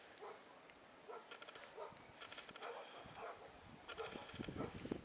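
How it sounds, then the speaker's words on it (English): Several dogs bark from a private house down the road near an old 1936 bridge over Otter Creek, faint and distant, in scattered bursts against quiet outdoor background. "Yeah, the dogs are really barking over there."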